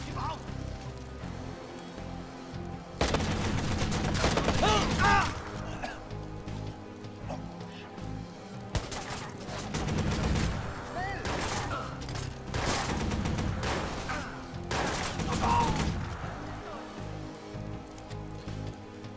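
Bursts of rapid gunfire from the Watch Dogs video game come in several loud clusters, heavy and close, broken by quieter stretches, with a voice talking over the game sound.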